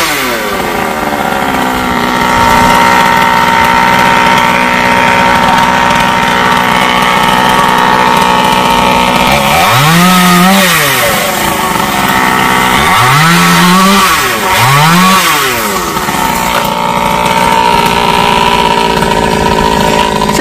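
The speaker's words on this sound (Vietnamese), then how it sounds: "Ba của Hoa đã cưa rồi." A chainsaw cuts Indian almond tree branches hanging over power lines, its engine droning steadily and loud, rising into several revving surges partway through as the blade bites the wood.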